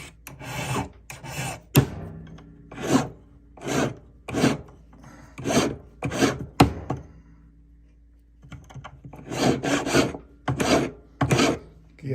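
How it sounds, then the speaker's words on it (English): A hand file works an antique white gold diamond ring at a jeweler's bench, giving loud, close rasping strokes in a rhythmic series of about a dozen passes with brief pauses between. "Okay, so we got this, and we're filing it right now."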